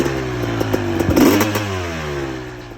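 A custom big-bore Kawasaki KX500 two-stroke motocross bike revs with a sharp, rising bark and some mechanical clatter, close and loud over about three seconds.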